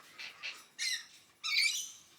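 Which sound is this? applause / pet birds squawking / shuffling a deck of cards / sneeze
pet birds squawking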